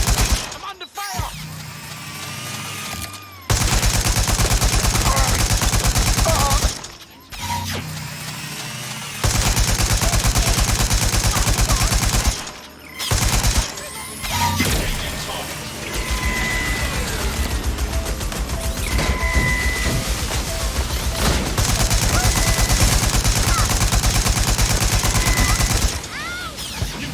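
Gunfire in the video game Watch Dogs Legion: loud, sustained bursts of automatic fire with sharp impacts, broken by brief silent gaps, close and dominant throughout.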